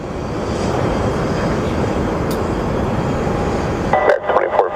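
Airliners taking off one after another at Sky Harbor airport make a steady, loud, broadband jet roar that fills the scene, and a voice is heard briefly near the end.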